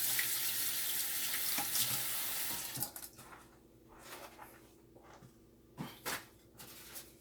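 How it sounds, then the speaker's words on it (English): Kitchen sink tap running steadily as hands are washed before handling cinnamon roll dough; the water pours loudly for about three seconds, then stops, leaving soft drips, splashes and handling noises. "I'm gonna wash them again because I gotta touch this dough"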